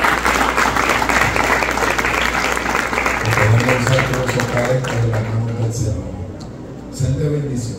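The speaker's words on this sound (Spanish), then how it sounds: "Vamos a darle un fuerte aplauso." Applause from a church congregation honoring its musicians, a steady wash of clapping that holds for several seconds, with a voice talking and music-like tones in the background partway through.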